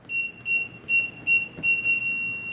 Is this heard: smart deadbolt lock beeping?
yes